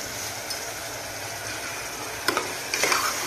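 Onions and curry leaves sautéing in a pan for mutton masala curry, a dense, steady sizzle close by, with two brief bursts of stirring scrapes toward the end.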